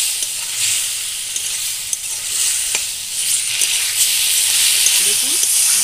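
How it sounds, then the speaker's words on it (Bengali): Potatoes frying with spices in a pan for a fish curry with cauliflower, a loud continuous sizzle with occasional clinks and scrapes of stirring, no talking. "আমি আলুটা দিয়ে দিলাম এর মধ্যে, আলুকে একটু কষিয়ে নেব।"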